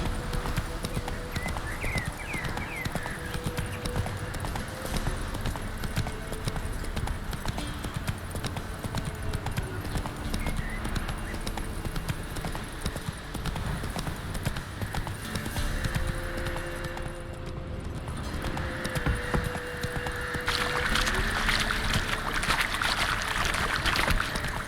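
Roach, the horse in The Witcher 3, trots with a steady, rhythmic clip-clop of hooves that runs throughout, over ambient game sound and occasional voices.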